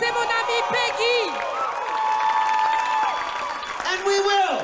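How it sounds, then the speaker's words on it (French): Applause and cheering fill a gospel concert hall for Peggy, steady crowd clapping with high, sliding whoops and shouts breaking out on top, loudest near the start and end. "Applaudissez mon ami Peggy."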